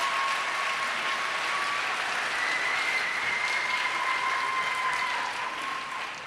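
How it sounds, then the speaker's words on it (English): A lecture-hall audience applauds steadily for several seconds, a dense, even wash of many hands clapping with no voices over it, fading slightly at the end. "I deserve a round of applause"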